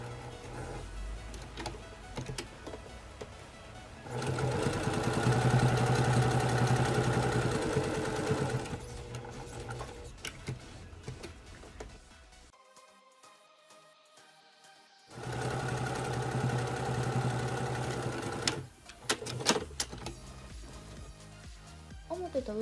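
A sewing machine runs in fast steady bursts as it tacks a plain outer pocket onto outer fabric 0.5 cm from the edge while making a shoulder phone pouch from an old obi sash, with a short pause between runs and a voice speaking at times.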